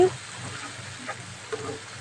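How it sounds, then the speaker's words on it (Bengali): Small fish fry in a pan and are turned and stirred, a soft steady sizzle with a few faint scraping knocks from the stirring. "আস্তে আস্তে উল্টিয়ে পাল্টিয়ে নেড়ে চেড়ে মাছগুলোকে আমি ভেজে নিয়েছি"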